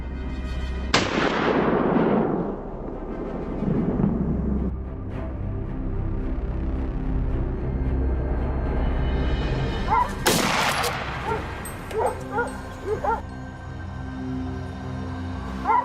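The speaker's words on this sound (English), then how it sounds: "Simultaneously, from all sides, gunfire erupts, marking our absolute dominance." Loud rifle gunshots boom out during a wild boar hunt, one big blast early and another burst later, followed by scattered sharper cracks echoing outdoors.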